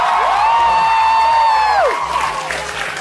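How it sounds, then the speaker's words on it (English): A crowd of fans cheers and applauds loudly and steadily, while a sustained whistle-like tone rises, holds and then drops away. "So shitty, my fans cheer at the cancellation."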